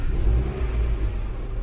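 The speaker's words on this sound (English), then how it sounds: "the engine is actually shaking right now" A Mitsubishi car engine idles rough and shaking with the check engine light on, giving a steady, loud, close low rumble that fills the whole moment with no talk.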